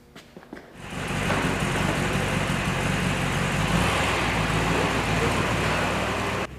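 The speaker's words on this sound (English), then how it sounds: "We gotta drive this car." A classic Mopar car with straight pipes drives on a sunny, dry road in 45-degree December weather, its steady loud roar filling the cabin without pause after a brief quieter start.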